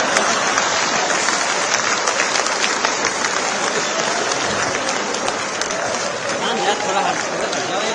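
An audience bursts into applause at a Hindi comedy poetry recital, a loud, continuous roar of clapping from a large crowd that keeps going at full strength, with a murmur of voices mixed in.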